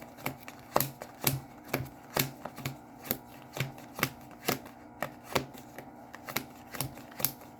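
Tarot cards are shuffled and riffled in a quiet room, a steady series of soft, crisp flicks and taps repeating about twice per second, close and fairly faint.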